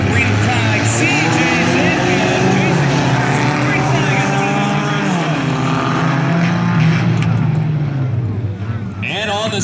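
Four-cylinder race cars start a heat race on a dirt track, their engines roaring loud and continuous with rising and falling revs as the pack accelerates, while an announcer talks over the noise.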